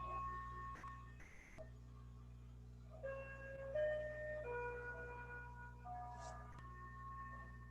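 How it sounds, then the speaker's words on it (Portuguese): A gas delivery truck passes while playing its jingle, a faint, distant melody of sustained electronic tones drifting over steady traffic rumble and room noise, with a couple of brief clunks near the start. "O carro do gás passando."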